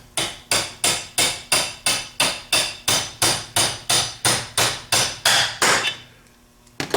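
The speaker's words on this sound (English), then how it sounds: "Tap it on down until the snap ring and the flat washers fall off." A 1/4 inch extension taps a vintage Chrysler starter shaft in a steady run of about sixteen close, sharp metallic strikes at an even rhythm, then stops, with one more tap at the end.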